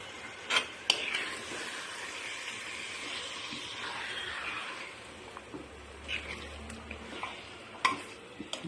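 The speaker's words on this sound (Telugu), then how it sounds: "ఇప్పుడు చికెన్ వేసేసుకుందాం." Chicken is added to a pan and stirred, making a soft sizzling and scraping wash with occasional clinks of the spoon against the pan, fairly quiet and close.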